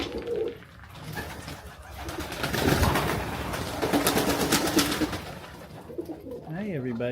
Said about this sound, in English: Visit our pigeon friends this morning.